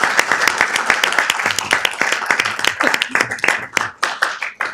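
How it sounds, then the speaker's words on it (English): Audience applause at a city council meeting, a steady burst of crowd clapping that thins out toward the end, with faint voices underneath. "One last round of applause,"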